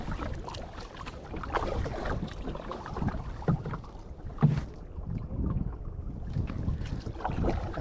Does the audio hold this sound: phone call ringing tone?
no